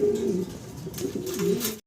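Fancy pigeons at a pigeon seller's loft, including white Pomeranian pouters, coo in steady, close, repeated rolling calls that continue without pause, with no talking over them.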